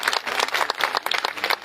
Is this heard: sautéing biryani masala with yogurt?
no